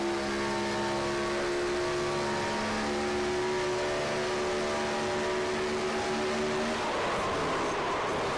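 Race cars roar in a stock car racing simulation game at Kansas, a steady sustained engine drone with layered harmonic tones that shifts and drops near the end, loud and continuous with no talking.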